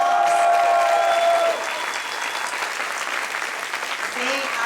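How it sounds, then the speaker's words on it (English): At a commencement ceremony, the audience claps for faculty on stage, a broad, steady round of applause from a large crowd that begins right after a voice fades and carries through. "Can you all give them a round of applause?"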